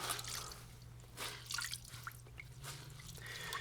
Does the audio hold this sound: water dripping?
yes